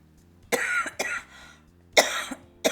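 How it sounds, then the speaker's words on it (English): Several sharp coughs at close range, two clustered near the start and two more after a short pause, each a harsh burst with a little throat rasp between them, heard alone without talk. "I always have to stop and have a cough"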